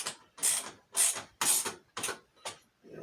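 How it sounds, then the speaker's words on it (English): Screws being tightened during a computer build, a series of about six short, crisp ratcheting bursts spaced roughly half a second apart, close and fairly loud with no talk. "but like tighten the screws"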